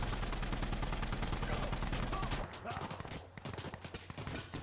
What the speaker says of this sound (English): Tracer rounds on a frickin' technical.